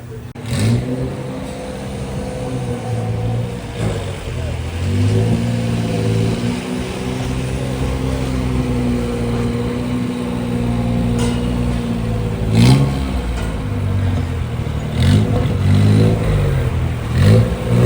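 A turbocharged Suzuki Carry mini truck engine with a new exhaust revs repeatedly, its pitch rising and falling in surges over a steady idle drone, loud and close with a throaty exhaust note.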